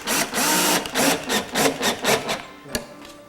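A screw is driven into a slightly warped board of a wooden birdhouse, giving a close, loud series of grinding, rasping bursts in a steady pulsing rhythm that tapers off and ends with a sharp tap, and no one speaks.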